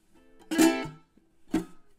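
Two clumsy strummed chunks on a ukulele by a beginner, a ringing first strum around half a second in and a shorter, choppier second one near the end, close and fairly loud with silence between.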